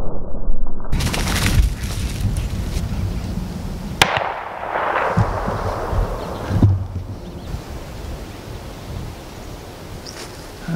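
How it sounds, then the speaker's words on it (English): Gunshot from another hunter in the woods on Ohio public land during deer season, a sharp distant report set against wind and outdoor background noise. "That other guy just shot again over there"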